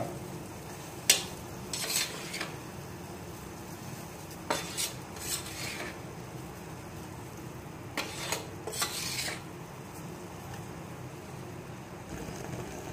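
A wheat and rice flour mixture is stirred in a pan on the stove for appalu, soft scraping with several brief metallic clinks of spoon on pan over a low background hiss.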